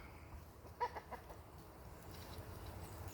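Hens and a rooster on a small farm cluck softly in the distance, a short burst of several quick clucks followed by scattered quieter calls over faint outdoor background noise.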